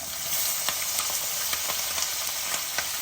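Green chillies sizzle and crackle in hot oil for gongura pulihara, a steady close-up fry with small pops scattered throughout and no voices.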